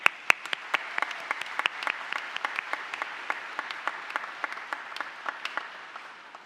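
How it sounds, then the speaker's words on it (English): Graduates at an Anglia Ruskin University graduation ceremony in Chelmsford applaud the staff: a steady round of clapping with distinct individual claps standing out, holding evenly throughout. "join me in giving a round of applause to the staff at Anglia Ruskin University"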